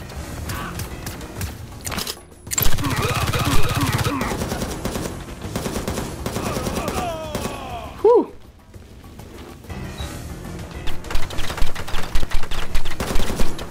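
Gunfire in the XIII remake video game, rapid bursts and single shots, loud and close, including a run of evenly spaced sharp cracks near the end, with someone talking in French over parts of it.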